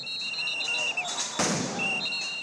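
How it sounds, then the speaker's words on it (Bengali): A police sound grenade bursts at a Shahbag intersection to disperse protesting teachers: one sharp, loud blast cuts through a steady crowd hubbub and a high whistling tone about midway through the moment. "শাহবাগ মোড়ে আন্দোলনরত শিক্ষকদের ছত্রভঙ্গ করতে পুলিশের সাউন্ড গ্রেনেড নিক্ষেপ"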